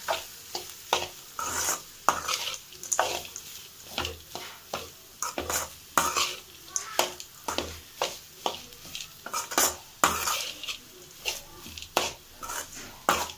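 Shark fish scramble with onions being stirred in a pan, a rhythmic series of close spatula scrapes and clanks over a faint sizzle, repeated steadily throughout with no talk.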